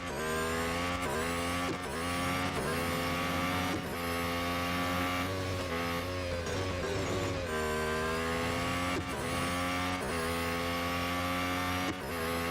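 A Haas race car in Real Racing 3 drones loudly and steadily with its engine, pitch rising and dipping through repeated gear changes and corners, with tire noise mixed in and no talking.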